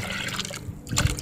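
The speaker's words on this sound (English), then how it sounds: "we've gone ahead and filled our container here with a little bit of water" Water trickles and splashes into a container of rusty stones, a short gurgling pour that pauses briefly and then resumes with a louder splash.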